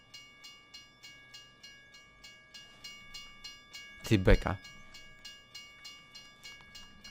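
Railway crossing bell in Farming Simulator 17 dinging in a steady repeating rhythm, with a brief loud burst midway as a train passes, while someone talks over it.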